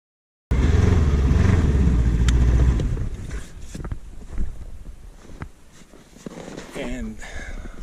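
A vehicle being driven down a shooting range gives a loud, rumbling engine start and drive for a few seconds, then fades to quieter motor and road noise, with people talking over it.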